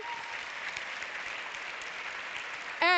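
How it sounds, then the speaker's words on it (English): Audience applause at the LUX Audience Award 2025 European film ceremony, a steady, dense wash of clapping throughout at moderate level, with a loud burst near the end. "Please give a big round of applause to all three of them as well."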